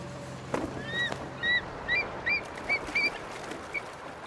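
Migrating waterfowl call beside the Porcupine River, a run of loud honking, quacking notes spaced about half a second apart over a soft outdoor background, with a brief thump near the start.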